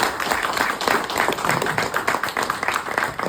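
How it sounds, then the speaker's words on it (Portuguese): Audience at a Portuguese book launch applauding the author, a dense, steady wash of many hands clapping that holds at a fairly loud level throughout, with no voices over it. "eu pedia à assistência que desse uma salva de palmas ao autor do livro, o Jorge Castela"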